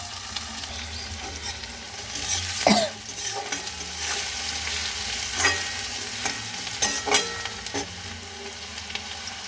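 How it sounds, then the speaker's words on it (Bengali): Onion and garlic frying in a pan with bay leaf, cumin, whole cardamom and cinnamon, a steady close sizzle with occasional louder stirring scrapes and spatters. "এবার আমি তেজপাতা জিরে গোটা এলাচ আর দেবো দারচিনি রসুন আর পেঁয়াজটা ভেজে নিলাম"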